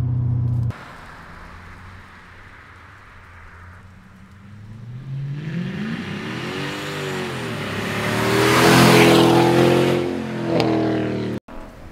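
A black Mercedes CLK55 AMG with a custom exhaust approaches from a distance, its deep exhaust growl building to a loud roar as it passes close, then fading away.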